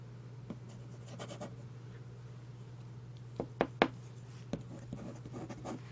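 Wing Sung 698 fountain pen nib scratching across paper in short strokes over a steady low hum, with a few sharper scrapes and taps near the middle and end.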